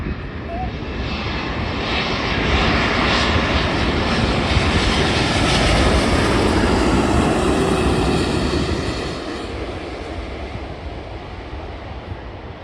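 An airliner comes in to land at Manchester Airport, a loud, steady roaring engine rumble that swells in the middle and eases toward the end, with faint talk underneath.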